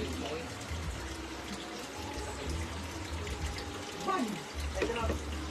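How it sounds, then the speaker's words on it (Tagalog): Water runs from a tap into a bucket with a continuous, fairly quiet splashing flow, and faint voices briefly rise in the background near the end. "kung ano yung gripo kasi pinupuno yung"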